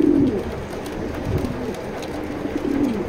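Low, rolling coos from a pair of racing pigeons repeat steadily through the clip, close by, with a faint steady background hum underneath.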